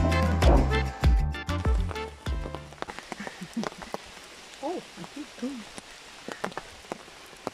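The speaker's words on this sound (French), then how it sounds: "Il pleut" Rain patters and drips around, with a few brief voices talking early on over a low rumble.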